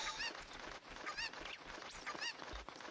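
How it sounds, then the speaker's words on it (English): Cucco chickens in Ocarina of Time 3D squawking repeatedly, with several sharp honking clucks in quick bursts, loud and close, and no talking. "What are you doing to my chickens?"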